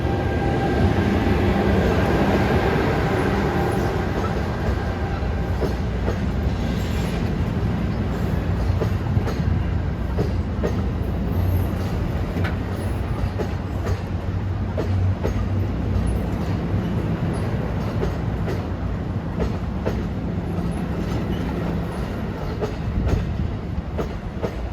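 An NJ Transit Raritan Valley line train hauled by an ALP-45DP locomotive rolls past LACK interlocking close by, with a steady loud roar and rhythmic wheel clatter for about 25 seconds.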